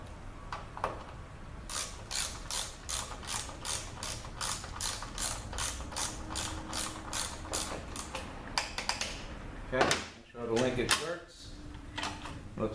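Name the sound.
ratchet (clicker) with Torx 30 bit tightening bolts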